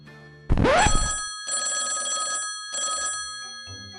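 An old-style telephone bell rings loudly in two long bursts separated by a short pause, close and insistent.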